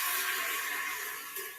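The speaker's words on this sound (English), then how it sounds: "carefully add my half a cup of water to each pot" Half a cup of water poured into a Cosori pressure cooker pot, giving a steady bright splashing and trickling wash that stays fairly loud and close throughout, with no voices.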